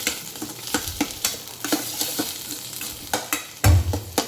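Radish greens with crushed peanuts stirred in a hot pan, a close sizzle under repeated spatula scrapes and taps in an irregular rhythm, ending in a louder knock.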